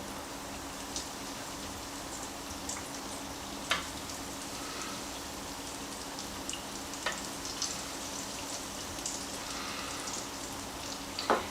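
Arancini rice balls frying in hot oil in a pan, a continuous soft crackling bubble with occasional faint clicks, fairly quiet and steady.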